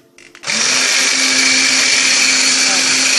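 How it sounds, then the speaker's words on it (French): A kitchen blender mixing chunks of pepper, onion and tomato kicks on after a brief clatter, then runs as a loud, steady, high whirring drone close by. "Après avoir mis les morceaux de poivrons, oignons et tomates, on le met dans le mixeur. Et on va mixer."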